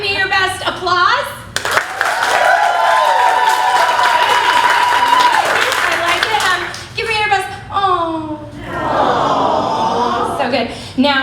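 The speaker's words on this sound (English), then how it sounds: "Okay, give me your best applause." An audience at a world premiere event bursts into loud, sustained clapping and cheering for several seconds, with a cheering voice and scattered shouts before and after the applause.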